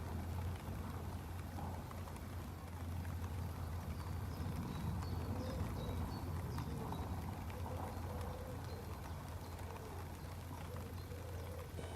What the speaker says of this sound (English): rain's pouring down on me as you can tell.